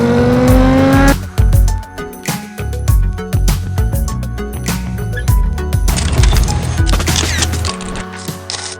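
A Honda X-ADV 750 adventure scooter accelerating hard at high speed in fifth gear, its engine pulling loud and steady under heavy wind rush, with brief sharp knocks and shifts in tone along the way.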